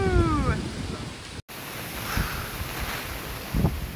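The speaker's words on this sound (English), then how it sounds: "It's a little windy, not too bad. We're getting some good gusts, but then it calms down again." Gusty wind during Hurricane Ian, a broad rushing noise that rises and eases, with brief muffled bumps; a short talking voice opens the clip before a sudden cut.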